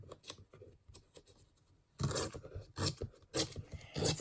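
Paper pages torn out of a book for collage, a few soft rips at first, then louder, ragged tearing bursts repeating close by in a quiet room.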